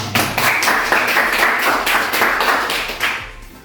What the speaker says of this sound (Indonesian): Untuk itu, aplaus dulu untuk kalian.